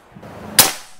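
A single sharp shot from a PCP Predator Bocap Black Army Phantom air rifle, one loud crisp crack with a short decaying tail over a quiet low background.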